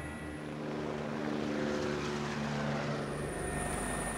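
A helicopter in flight over a town during an aerial photo mission, its engine and rotor making a loud, steady, continuous drone that fills the whole stretch.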